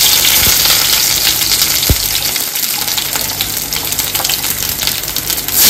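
Curry leaves and mustard seeds sizzle loudly in hot oil for a Goan usal, a steady broadband crackle and gush running throughout with a few sharp pops near the start.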